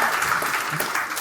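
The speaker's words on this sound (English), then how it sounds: "If you're happy and you know it, clap your hands." A church congregation claps together for a moment, a dense, even burst of many hands that holds steady and close throughout.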